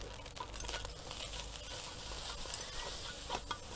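Fried rice with nam and mushrooms is stir-fried in a pan, giving a dense, continuous sizzle broken by scraping and tossing noises. It is close and steady, and no one speaks.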